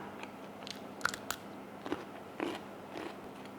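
Close crunching bites and chewing on crisp fresh vegetables eaten with fermented fish (pla ra) chili paste, a handful of sharp crunches spread over a few seconds with no talking.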